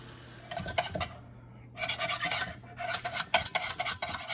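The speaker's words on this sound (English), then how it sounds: "And I have my egg white that I'm going to whisk in there." A whisk beats egg white in a bowl, giving quick rattling bursts of clicks and scrapes in three spells with short pauses between them, close and clear.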